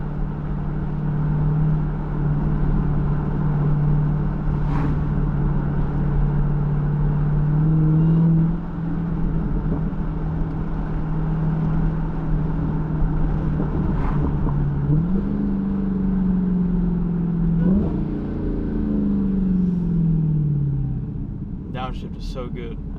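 A supercharged Dodge Challenger Hellcat Redeye engine drones with a high supercharger whine that rises, drops and climbs again as gears downshift by paddle, with someone talking over the cabin rumble.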